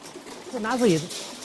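Domestic racing pigeons cooing nearby in a short, throaty, warbling phrase that rises and falls once, with faint background noise and no talk.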